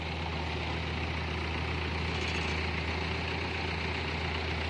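A Bison machine's diesel engine runs at a steady, low idle, a continuous rumbling drone that stays even throughout with no voices.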